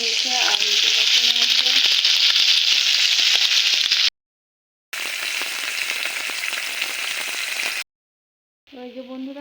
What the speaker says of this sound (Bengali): বন্ধুরা মাছ ভাজা হচ্ছে।